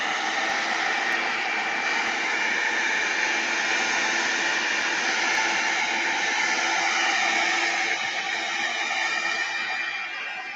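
A hair dryer blowing steadily for about ten seconds, drying the left side of an abstract art journal page, a constant close airy whoosh with no talk.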